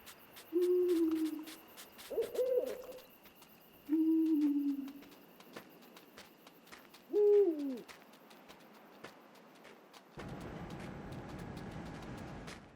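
Owls hoot in the Endling: Extinction is Forever video game, four separate low, wavering hoots spaced a few seconds apart over a quiet forest ambience. Near the end a steady rushing noise takes over.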